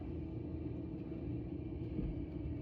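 Steady low traffic rumble from cars passing on a street, continuous and moderately distant with no distinct individual pass-bys standing out.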